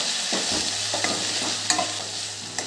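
Onion and tomatoes stir-frying in hot oil for a moth bean curry, a steady close sizzle broken by several sharp scrapes and clinks of the spoon against the pan, with no talking.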